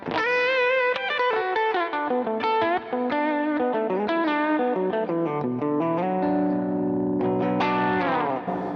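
A heavily distorted electric guitar on its bridge humbucker pickup, a Super Strat, plays a dense, sustained riff with thick chords and bright overtones, loud and continuous with some echo.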